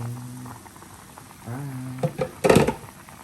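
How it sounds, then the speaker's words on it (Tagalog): Chicken tinola with papaya boiling in a pot, a steady low bubbling simmer with some clearer popping bursts near the end. "Hayaan na natin kumulo siya."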